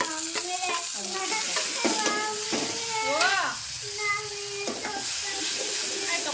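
Onions frying in a pan while cooking sambar, a steady sizzle running throughout with scraping stirring strokes, heard under background voices and tonal chatter.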